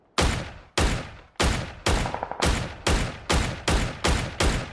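Gunfire in a shooter video game: nine evenly spaced loud shots, each sharp crack trailing into a brief decay, heard alone at close range.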